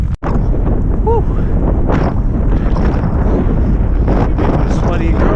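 Strong wind on a hilltop along Iceland's Laugavegur trail buffets the microphone in a loud, continuous roar with gusty swells, and a brief sharp click near the start.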